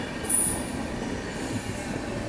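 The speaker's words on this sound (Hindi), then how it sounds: "और चलिए अपनी ट्रेन अराइवल ले रही है काटपाड़ी जंक्शन में" An Amrit Bharat Express pulling into Katpadi Junction, with steady wheel-on-rail rumble and a brief high wheel squeal near the start, heard continuously from on board.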